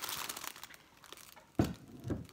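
A craft-swap package is bitten and torn open with the teeth: crinkly plastic rustling first, then a sharp ripping snap and a second tearing crackle, close and alone.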